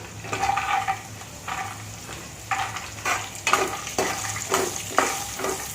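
Peanuts tossed in hot oil with chilli and curry leaves for poha chivda crackle and sizzle while a spoon stirs in repeated rhythmic scraping strokes, about eight bursts over a steady hiss, no voices.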